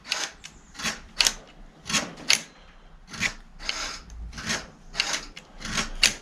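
Repeated harsh scraping and rubbing strokes, about a dozen rhythmic rasps close by, from a worn, frayed bicycle brake cable grinding.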